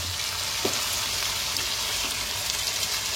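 Chicken fries in oil and ghee, giving off a close, steady, dense sizzle with a few faint stirring clicks and no voices.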